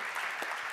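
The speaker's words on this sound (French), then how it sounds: "On les applaudit tous les quatre." Brief burst of audience applause for four startup award winners, a dense, even patter of clapping heard only for a moment.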